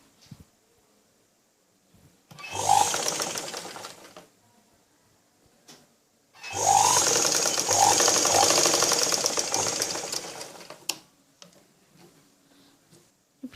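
A sewing machine stitches a frock yoke at the armhole fold in two runs, a short burst followed by a longer steady whirring stretch, close and clear against a quiet room.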